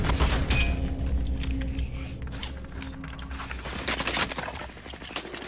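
Gunfire in Call of Duty: Modern Warfare Warzone, with bursts of rapid crackling shots mixed with metallic clatter and a low rumble, dense and busy throughout, strongest near the start and again toward the end.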